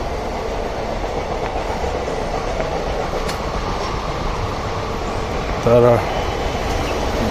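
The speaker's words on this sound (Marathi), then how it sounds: "जर तुम्हाला ट्रेनचा आवाज येत असेल ट्रेनचा लेफ्ट राईट साईडला" A train runs past alongside a morning walk route in Mumbai near Sion and Wadala, a steady rumbling rail noise with faint clatter throughout, and a voice speaks briefly near the end.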